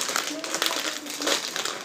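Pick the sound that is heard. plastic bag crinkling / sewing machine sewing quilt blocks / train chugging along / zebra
plastic bag crinkling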